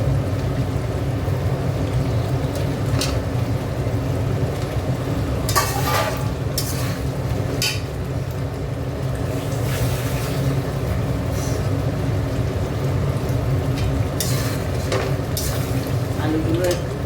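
Potatoes sizzle in spiced masala in a pan with a little water, a steady frying hiss with occasional sharp stirring scrapes, continuous throughout.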